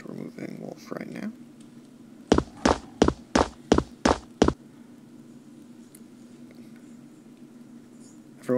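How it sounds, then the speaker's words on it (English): Seven evenly spaced, heavy thudding footsteps of characters in the tactical game X-Mercs land in a quick row, loud and close, following brief talk and over a quiet hum. "Everyone has preternaturally loud footsteps"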